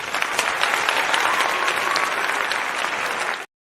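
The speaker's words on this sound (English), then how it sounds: "Round of applause for that young man." Loud, dense applause from a crowd, steady clapping that cuts off abruptly at the end.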